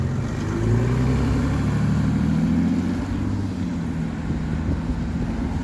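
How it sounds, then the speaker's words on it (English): A noisy car passes on a street in Exmouth. Its loud, deep engine rumble stays close and steady throughout, with no other sound clearly standing out. "Including this noisy car."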